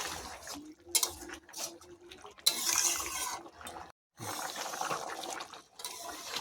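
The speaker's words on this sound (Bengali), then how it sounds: "আবারও ভালো করে একটু নাড়াচাড়া করে দেবো" Ghugni cooked with mutton fat gets stirred in a pot after garam masala is added. It makes soft, wet scraping and sloshing sounds in irregular bursts with brief pauses, close and fairly quiet.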